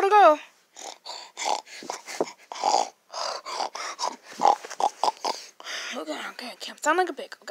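A person makes a string of snorting, grunting oinks, imitating a pig in short bursts with brief pauses between them.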